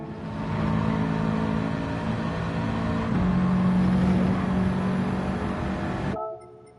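A Subaru WRX Gr4 race car in Gran Turismo 7 strains at full throttle up a hill, its engine a loud, steady, droning roar that holds its pitch, then cuts off abruptly near the end.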